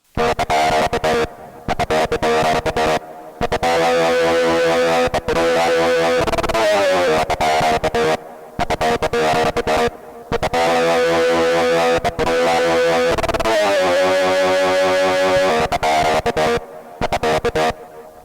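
A distorted synthesizer pattern from a Roland MC-707 repeats in short stepped bursts, its timbre shifting from step to step with per-step sequenced modulation, with brief gaps of silence between phrases.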